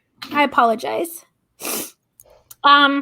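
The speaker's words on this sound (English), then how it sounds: "Excuse me, I'm going to sneeze." One sharp, breathy sneeze bursts out between stretches of a man's speech during a spoken tax-guidance briefing; it is brief and close, with a short pause and a faint breath after it before talking resumes.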